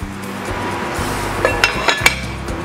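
A metal lid set onto a cooking pot of simmering balbacua beef stew, making a few light, close metallic clinks and taps over a low background hum.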